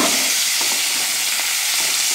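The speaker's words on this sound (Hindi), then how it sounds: "और उसमें मैं डाल दूंगी कटहल इस तरह से और इसे ही फ्राई कर लूँगी।" Jackfruit frying in oil in a pan, a loud, dense, unbroken sizzle heard close up, with faint stirring movement and no talking.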